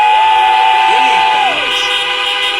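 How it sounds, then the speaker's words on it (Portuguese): Loud vehicle horns honked by an audience at Allianz Parque stadium blare together in a sustained chorus, with overlapping tones bending in pitch, close and continuous. "Dá uma buzinada aí."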